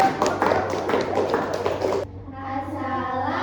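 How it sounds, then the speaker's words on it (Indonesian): Classroom of fifth-grade pupils clapping for group 1, a quick burst of uneven claps for about two seconds that stops abruptly, followed by a voice. "Kasih tepuk tangan dulu untuk kelompok 1"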